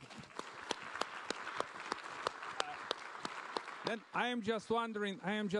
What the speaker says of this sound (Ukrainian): Ви заслуговуєте на оплески.